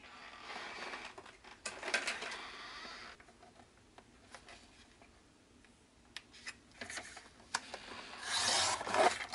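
A paper tab is cut for a Tim Holtz mini folio craft project, heard as faint, close, intermittent scraping and snipping bursts separated by quiet pauses.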